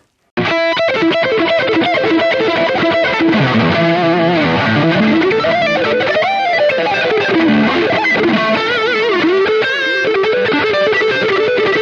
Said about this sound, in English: this is a baked in tube screamer in it, and it sounds like this